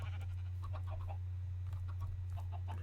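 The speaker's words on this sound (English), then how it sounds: "Stupid chickens." Chickens in the farming video game H-moon cluck in short, soft clusters over a steady low drone, faint and fairly close, with no talk.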